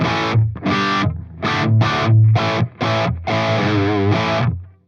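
An electric guitar through a Marshall JMP preamp on its 60s setting with no effects plays a short series of chopped, crunchy chords, rhythmic stabs with brief gaps, ending on a longer ringing chord.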